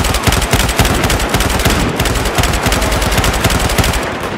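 An LSAT light machine gun in Battlefield 4 during a Rush match, firing a loud, unbroken stream of rapid shots close up for the whole stretch, with no talking.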